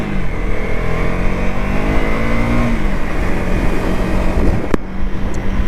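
A 2024 KTM Duke 250 motorcycle accelerates hard, its engine note climbing steadily through the revs, loud and close throughout with a brief sharp transient near the end.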